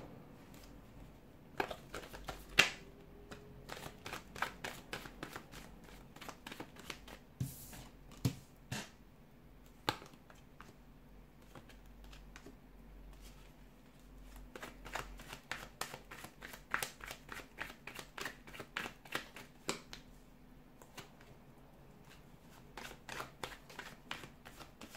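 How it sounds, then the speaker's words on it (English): Tarot cards being shuffled by hand, with repeated bursts of quick crisp riffling and soft slaps that come in clusters with pauses between, close and fairly quiet, no talking. "give the cards a shuffle"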